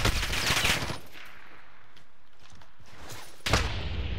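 Sniper gunfire in a military-base shooter video game: a loud burst of shots opens, then a quiet stretch, and another loud blast of fire near the end, with no talking.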